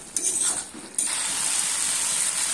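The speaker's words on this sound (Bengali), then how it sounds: "এবার আরো মিনিট 3 সময় নিয়ে ভালো করে কষিয়ে নিতে হবে যতক্ষণ না এটা তেল ছাড়ছে।" Spice paste stirred and fried in oil in a pan for a Bengali drumstick, eggplant and tomato curry, with a steady close sizzle and a few scraping stirs at the start, no voices.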